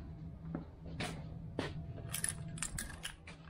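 Car keys jingle and clink in short metallic bursts, fairly close, while an older works vehicle with lacquer peeling on the bonnet is inspected; a low steady hum runs underneath.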